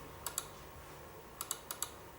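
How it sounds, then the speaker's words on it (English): Computer mouse left clicks while typing on an on-screen keyboard during a Dahua NVR setup, two faint sharp clicks, then a pause and four more in quick succession, close and quiet against a soft hiss. "So I'm just going to go left click here."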